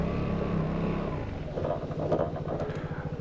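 A Vespa scooter ridden through snow, its engine running steadily as the front brake is tested, with a low rumble that becomes a choppier, pulsing drone partway through.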